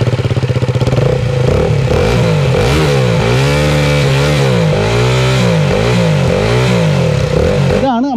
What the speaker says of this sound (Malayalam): അപ്പം എക്സോസിൻ്റെ സൗണ്ട് ഒന്ന് കേൾപ്പിച്ചുതരാം.